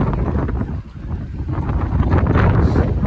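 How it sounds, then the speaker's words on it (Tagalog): Strong, cold wind buffets the microphone at a Batangas viewpoint in a continuous low roar, gusting heavier toward the end, with faint surroundings beneath. "Ang hangin, ang lamig."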